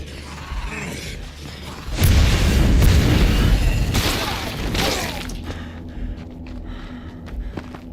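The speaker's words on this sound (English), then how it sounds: "you can see how powerful these mines can be" Mines detonate in the video game State of Decay 2: a loud, heavy blast around two seconds in is followed by a second burst with crackling debris, then fading rumble and clatter.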